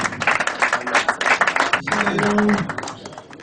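Wedding guests clap their hands in a dense burst of applause that runs steadily throughout, with a brief lull near the middle and a murmur of crowd voices underneath.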